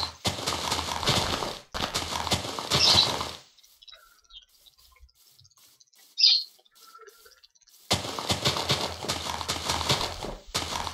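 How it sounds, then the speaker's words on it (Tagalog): A horse in the Minecraft video game, with a short neigh or whinny rising out of near silence, set between stretches of steady background game ambience. "May kabayo pala dito eh."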